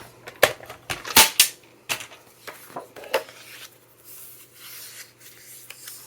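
Paper being scored at the half-inch mark for a scrapbook album flap, a series of sharp close scraping strokes and taps, loudest early on and then softer rubbing toward the end.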